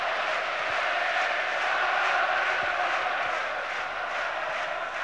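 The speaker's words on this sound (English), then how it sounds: "We shall not be moved, the cry from the home fans" Home football fans at a Rangers versus Celtic match chanting "We shall not be moved", a massed crowd roar with sustained sung tones, steady and broad throughout.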